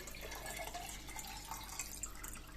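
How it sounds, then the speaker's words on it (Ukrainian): Well water poured into a jar of salt brine gives off faint, close trickling and dripping sounds over a short stretch, quiet and without voices. "Розмішуємо цю сіль і доливаємо звичайною криничною водою."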